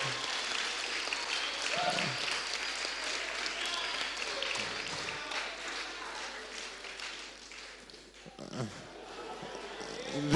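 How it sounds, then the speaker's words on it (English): Audience applauding at an ICT fair in Eswatini, a steady wash of clapping running throughout, with scattered voices and a few low thumps underneath. "Let's give him a big round of applause"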